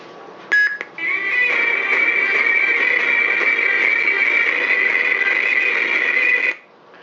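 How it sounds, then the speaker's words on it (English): Lightsaber sound font booting up: a couple of sharp clicks, then a steady electronic hum with a bright whine switches on, holds for several seconds, and cuts off abruptly. "Here's the boot up sound for that."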